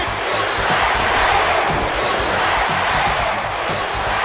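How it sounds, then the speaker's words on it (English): A large arena crowd at a professional wrestling event roars continuously in a dense, loud wash of voices, with a rhythmic chant of "USA" buried in the din. "The fans chanting USA."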